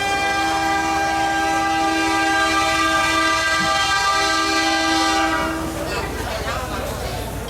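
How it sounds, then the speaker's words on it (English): A passenger train in Myanmar near Pyin Oo Lwin sounds a long, steady horn blast close by, then the horn stops and the rumble and clatter of the moving train continue. "So we're on the train"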